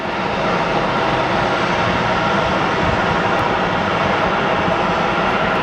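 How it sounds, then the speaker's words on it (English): American Airlines flight 1541 from Las Vegas arriving at Phoenix Sky Harbor, a loud, steady jet engine roar close by, broadband and unbroken for several seconds. "Looks like our next arrival is going to be American 1541 from Vegas."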